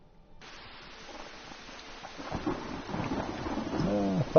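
Thunderstorm in the video game Skyrim: rain hiss swells gradually into a rumbling roll of thunder, growing louder toward the end.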